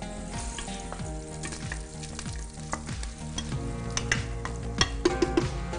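Onions sizzling and frying in a pan with meat while cooking Oued Souf couscous, a steady close crackle with a few sharper pops toward the end, no talking.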